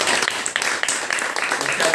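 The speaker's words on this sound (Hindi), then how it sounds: "एक बार जोरदार तालियां बजाएं" Audience at a Hindi Diwas program gives loud, sustained applause, with individual claps audible in the dense patter, while a voice talks faintly beneath it.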